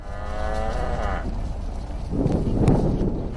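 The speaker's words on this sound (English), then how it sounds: "cows were running in the green fields" Cows in a green field give loud, close moos. One drawn-out low call is followed by a rougher, deeper bellow, set against outdoor background noise.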